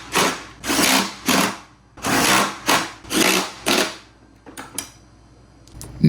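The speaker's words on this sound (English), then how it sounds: "We can use the exact same 13mm socket to install them" A 13mm socket on a power driver runs bolts into the lower dash of a John Deere D100 series tractor, sounding as six or so loud whirring bursts of about half a second each, then quieter clicks and handling.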